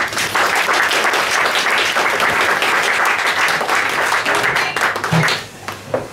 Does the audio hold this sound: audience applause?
yes